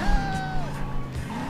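Car driving in the game Driver Parallel Lines, a steady engine drone with gliding tonal whines shifting pitch over a low rumble, continuous for the short stretch with no talk.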